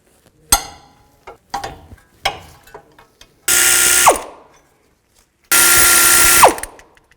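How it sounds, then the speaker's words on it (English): Ratchet wrench with a 17mm socket loosening the brake caliper bracket bolts on a 2015-20 Hyundai Tucson, with a few sharp separate clicks followed by two long, loud, close bursts of rapid ratcheting that end in falling squeals. No speech. "Now we're going to take this bracket off. I'm going to use a 17mm socket."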